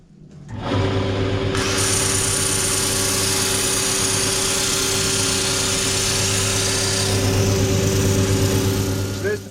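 A power sander works on scrap-wood coffee table legs salvaged from a skip, a loud, continuous buzzing whir that holds steady from start to finish at close range.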